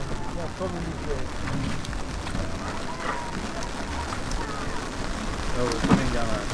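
Rain falls steadily in a broad, hissing patter during a rafting trip on Jamaica's Rio Grande, with occasional louder splashes. Voices talk faintly underneath.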